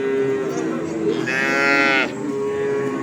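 Cattle at a livestock market low repeatedly, the first close moo leading straight into a longer rising bellow in the middle, with hum and murmur of the market underneath.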